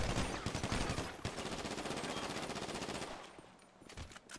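Rapid automatic gunfire rattles in a video game, dense and loud for about three seconds before thinning into scattered shots.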